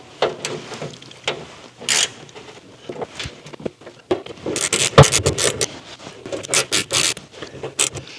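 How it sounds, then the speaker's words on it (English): Screws are tightened on the lower air duct under the dash of a Scout being restored. Close, scratchy ratcheting and scraping bursts of metal-on-metal clicks come in uneven spurts, with a sharp clunk partway through. "it's just a matter of tightening up the screws now"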